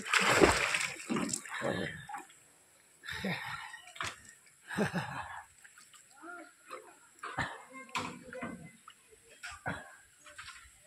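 People bathing and splashing in floodwater near houses, with irregular bursts of splashing water and muffled voices talking and calling out between the splashes at a moderate distance.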